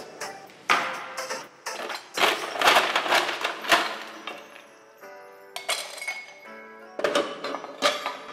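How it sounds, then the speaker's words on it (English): Cocktail shaker packed with ice and fresh cream, shaken hard: bursts of clattering ice against the tin, sharp clinks and rattles in uneven rhythmic spurts with short pauses, close and fairly loud. "give it a nice shake so it becomes nice and frothy"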